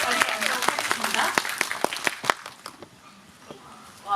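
Audience applause at a Weak Hero Class 1 homecoming screening and guest talk, a dense burst of clapping for about two seconds that thins and fades, with voices speaking over it.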